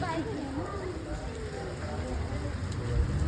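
Rain falls steadily in a soft wash of patter outside a railway station in Konkan, with a voice speaking faintly underneath.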